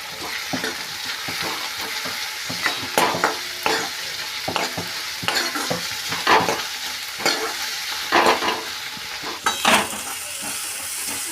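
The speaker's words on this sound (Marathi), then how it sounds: "आता आपला हा मसाला पूर्णपणे भाजला गेला आहे।" Masala spices roast in a hot pan for a Bharali vangi, a close, steady sizzle broken by frequent scraping stirs of a spoon against the metal, with no voices.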